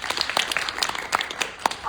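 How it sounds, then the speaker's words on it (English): Scattered, thin applause from a small audience welcoming volunteers to the front, with uneven individual claps rather than a full ovation. "Y'all give a round of applause."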